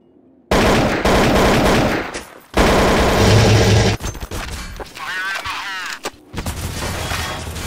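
Gunfire in Counter-Strike: Source on the Dust2 map, with loud, dense bursts of automatic weapon fire and scattered single shots that overlap game sounds and pause briefly between volleys.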